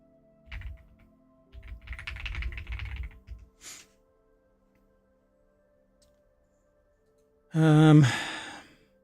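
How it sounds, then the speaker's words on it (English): Computer keyboard typing in two short bursts of quick, close clicks in a quiet room, followed by a loud audible sigh. "Oh, I keep typing on the wrong computer."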